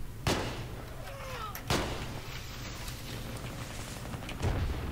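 Tank cannon fire in Battlefield 3 on Seine Crossing in Conquest mode: a few heavy booming shots spaced seconds apart over steady battlefield rumble.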